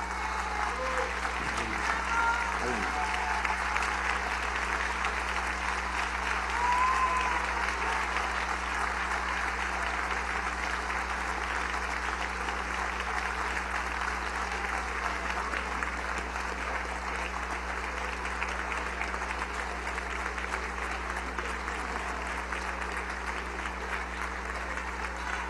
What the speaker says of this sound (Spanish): Yo pido un aplauso de pie para el compañero Diosdado Cabello por sus servicios a la patria.